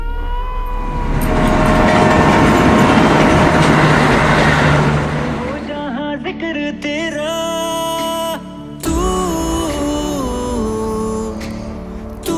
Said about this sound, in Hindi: ये बीता हमारा एक दिन रेल यात्रा में